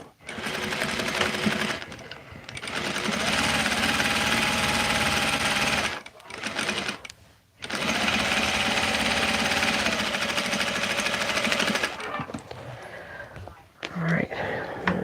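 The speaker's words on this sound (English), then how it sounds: "all right, let's stitch the other side." A sewing machine stitches the side seam of a quick baby gift with a loud, steady, close mechanical whir and needle rattle, running in long bursts broken by two short pauses, with brief handling noise near the end.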